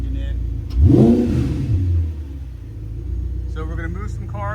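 An Audi R8 fitted with an upgraded exhaust and intake revs once sharply. A loud, rising engine roar swells, holds and then falls away to a low idle rumble, and a voice speaks briefly near the end.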